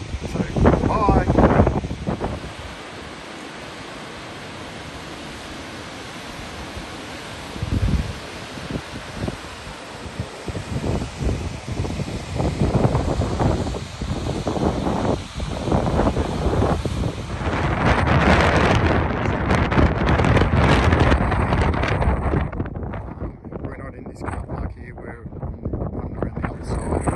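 Wind blowing through a treeless canyon in Iceland, gusting hard against the microphone in uneven surges, loudest near the start and again toward the end, with someone talking at times.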